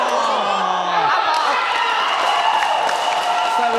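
Audience applause and cheering ring out in a hall at a badminton team tournament semifinal after a long rally point, a steady crowd roar beneath commentators talking over it.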